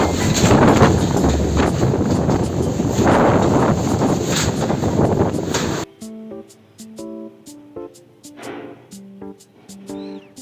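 Strong wind roars steadily on a farm for about six seconds, then gives way to sparse metallic clanks and rattles of tin sheets, spaced irregularly and fairly close.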